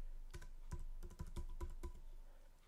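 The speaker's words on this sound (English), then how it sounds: "And I'll just type dollars up here" Typing on a computer keyboard while entering a chart axis title in a spreadsheet, about eight quiet, close keystrokes in an uneven rhythm, with no talking.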